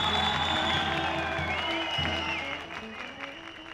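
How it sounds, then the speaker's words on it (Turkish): Studio audience claps to vote for contestant Namık on the İbo Show, a steady spread of applause under sustained music and tones, tapering off toward the end. "Şimdi sırayla alkışlıyoruz"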